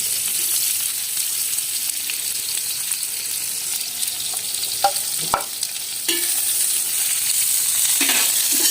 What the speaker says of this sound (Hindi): सबसे पहले हम इसमें प्याज डाला हमने तवे के ऊपर